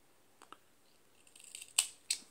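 Scissors snipping through crochet yarn, with a couple of faint handling rustles, then two crisp, close metallic snips near the end of a short, quiet moment.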